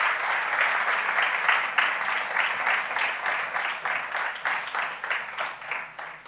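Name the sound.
strong applause from audience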